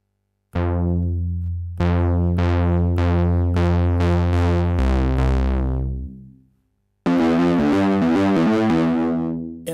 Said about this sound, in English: The next effects type is the distortion. Again, these are all digital effects